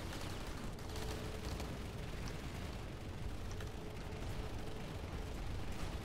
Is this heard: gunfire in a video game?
yes